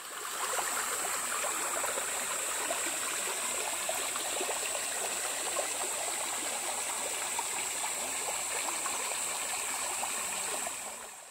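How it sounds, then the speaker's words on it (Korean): Mountain valley stream water flows continuously along a forest trail, a steady rushing babble that stays even and fairly close throughout, with no voices. "계곡물을 끌어와서 흐르게 해놓았는데요. 그래서 물소리도 좋고"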